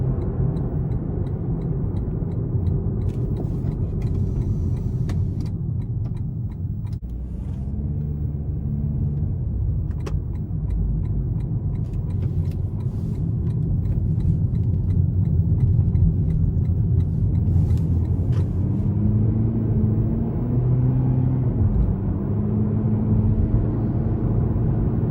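From inside a 2019 Lexus UX 200 Hybrid F-Sport on the move, a steady low road and engine rumble runs throughout, swelling a little partway through, with no voices.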